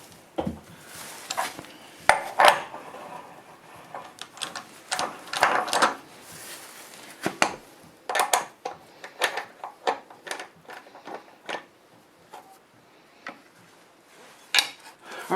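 Metal clanks, clicks and ratcheting rattles come and go as chuck jaws are swapped on a wood lathe between bowl-turning steps, with irregular close taps and scrapes and short pauses, no talking.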